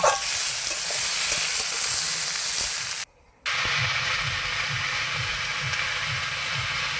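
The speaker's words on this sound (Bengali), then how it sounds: "এবার পেঁয়াজ টমেটম এগুলোকে দিয়ে একটু নাড়াচাড়া করে নেব। এগুলো দিয়ে নাড়াচাড়া করে একটু ভেজে নেব।" Potatoes, onion and tomato stirred and fried in a pan, a continuous close sizzle with scraping strokes of a spatula and a brief silent gap midway.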